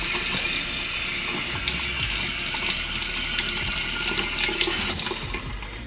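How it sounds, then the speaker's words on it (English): Warm tap water runs steadily into a sink while it is splashed onto a face during an acne skincare routine. The rush of water is close and continuous, with small splashy variations and no talking. "So let me put some water on my face."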